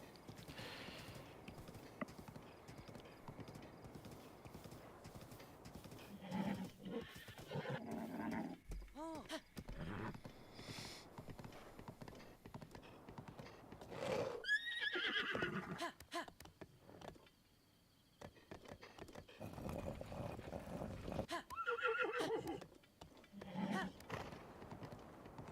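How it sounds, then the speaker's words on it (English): A giant horse in a video game neighs and its hooves clip-clop in rhythmic bursts, with whinnies and galloping alongside game music and effects, under faint talk. "The giant horse is being a big jerk."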